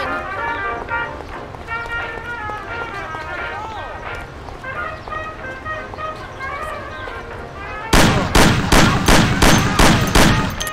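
Rapid gunshots ring out in the Mafia video game, a burst of about eight sharp, loud reports packed into the last three seconds, after a stretch of dialogue and background game music.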